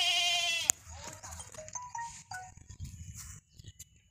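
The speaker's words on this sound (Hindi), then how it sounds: "बहुत ही ज़बरदस्त बकरा है।" A goat bleats loudly up close at a livestock market, letting out one long, wavering cry. Quieter bleats and market noise follow, and someone talks over them.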